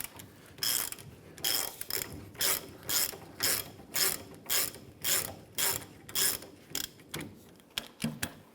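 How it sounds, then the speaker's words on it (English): An 18mm socket on a ratchet loosens a rear shock absorber bolt on a 1993–1997 Ford Ranger, producing a close series of about a dozen rhythmic clicking ratchet strokes, each a short burst of pawl clicks, with no voices. "Use our 18mm socket and ratchet. Let's go ahead and loosen this here"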